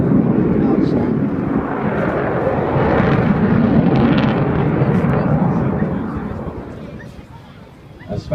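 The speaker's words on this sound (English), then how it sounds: "the Avro Vulcan. There's going to be one more pass" An Avro Vulcan jet bomber roars past at an airshow, a loud broad rumble that swells and holds, then fades over the last few seconds, with a voice audible in the background.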